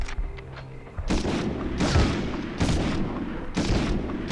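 Several loud booming grenade blasts from Medal of Honor on the original PlayStation, spaced about a second apart, each a broad burst with a rumbling tail, over faint game background sounds.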